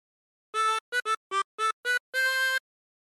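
A short run of notes on a 24-hole tremolo harmonica playing a Yankee Doodle phrase, six quick tones, then one longer held note, clear and close with no talking.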